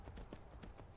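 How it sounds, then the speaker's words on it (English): Horse hooves clip-clopping in Skyrim, a quick, regular run of about six hoofbeats, close and clear, with no talk over them. "I am going to get off the horse"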